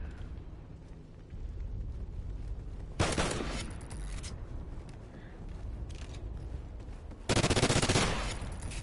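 Video game gunfire from a gun game match: dense bursts of rapid automatic shots that start abruptly, loud and sustained, with two especially heavy volleys standing out over a continuous noisy background.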